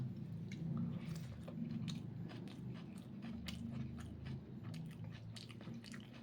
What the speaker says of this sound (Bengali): চিকেন একটু আলু একটু চিকেন একটু শশা পেঁয়াজ দিয়ে এবার খাওয়া যাক